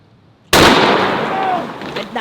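A 950 JDJ Fat Mac rifle fires into an Orbeez target with one deafening, close blast after a short silence, leaving a long ringing roar that slowly fades.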